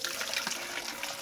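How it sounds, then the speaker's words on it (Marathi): Water trickles steadily from a gomukh spout in a temple courtyard, a soft continuous splashing flow heard alone at a modest level. "मंदिराच्या आवारात गोमुखातलं पाणी येतं आहे, तुम्ही बघू शकता."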